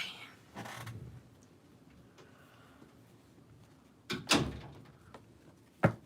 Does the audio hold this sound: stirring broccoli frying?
no